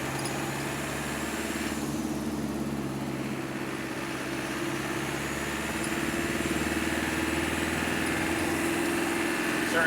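A 1988 Land Rover Santana with a turbocharged engine and five-speed gearbox pulls along in third gear, its engine droning steadily and rising slightly in pitch and loudness, heard from inside the cab with no talking.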